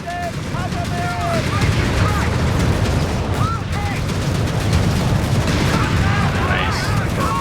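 Dense gunfire and explosions from a Company of Heroes 3 battle rattle on loudly and continuously, with bursts of weapon fire and booms crowding the mix, while voices talk over the combat.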